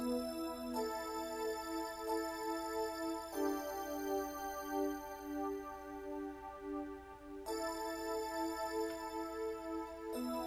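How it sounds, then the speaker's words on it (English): Sustained synthesizer tones with a bright, shimmering bell-like timbre ring continuously, with new chords struck every few seconds over a faint hum. "Actually, no, it's a bell sound."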